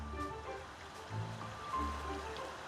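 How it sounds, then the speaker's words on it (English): A waterfall in the video game Ogu and the Secret Forest rushes as a steady low wash of falling water, faint and continuous with a slight swell partway through, with no voices. "I hear a waterfall."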